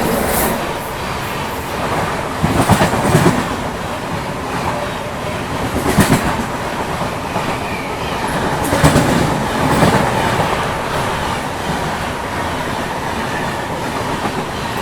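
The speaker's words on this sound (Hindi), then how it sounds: "और ये भी बगल से क्रॉस हुई गीतांजलि एक्सप्रेस" An Indian express train, the Gitanjali Express, rushes past on the adjacent track while riding aboard the Mumbai–Howrah Duronto, giving a steady loud rolling rumble with repeated wheel clatter bursts throughout.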